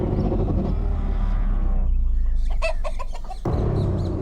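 Chicken clucking and squawking in a dramatized crime show scene, loud and close, a run of sharp repeated calls over a steady low rumble that cuts off abruptly partway through.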